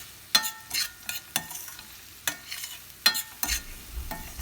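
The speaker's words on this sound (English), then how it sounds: "Give a nice mix with the salt so that it will cook faster" Boiled potatoes with salt are stirred in a pan, a series of scraping spoon strokes in irregular rhythm over a faint sizzle, close and fairly quiet.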